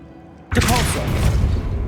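A Depulso force spell cast in the Hogwarts Legacy video game, a sudden loud whooshing burst about half a second in that rumbles and sustains to the end, with a faint voice under it.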